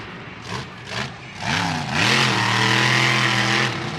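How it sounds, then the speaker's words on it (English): The Excalibur monster truck's engine roars and revs at a Monster Jam event in St. Louis, its pitch climbing in repeated surges over a loud, dense stadium wash of noise. "This Excalibur truck is obviously a legendary monster truck in the sport, and he is getting big air."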